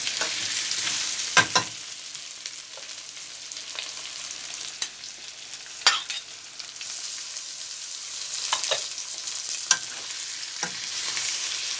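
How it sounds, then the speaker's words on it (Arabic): Potatoes and liver sizzle steadily in a frying pan, with repeated scraping stirs and clanks of a utensil against the pan breaking through a constant bright hiss. "شوحتها كده بالراحه من تحت لفوق عشان الكبد ما تتهري بسرعه"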